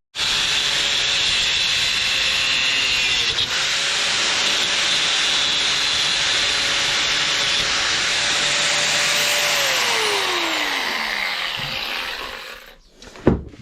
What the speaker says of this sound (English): So I've got the grinder, I've got the cutter.